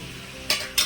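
Chana dal goes into a hot pan for a potato and cabbage curry, giving two quick, close bursts of sizzling stir against a quiet background.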